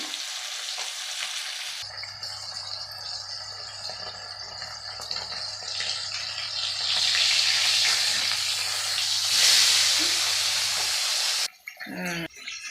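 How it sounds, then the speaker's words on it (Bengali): A pot of Bengali pabda fish curry bubbles with a steady hiss and crackle at close range, with a low hum underneath, and ends in a brief clatter; no voices. "দেখো মাছ এমন ফুটতেছে"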